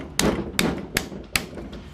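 Four sharp hammer blows knock steel off a scrap radiator, evenly spaced metallic strikes, close and loud with short ringing decays.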